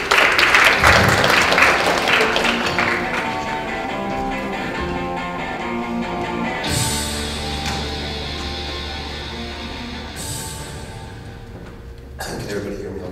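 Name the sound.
audience applause welcoming speaker Justin Sanger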